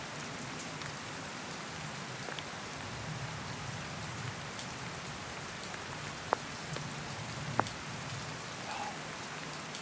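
Steady rain falls on a campsite, a soft continuous patter with occasional sharper drops striking nearby surfaces; even and moderately quiet throughout, with no talk.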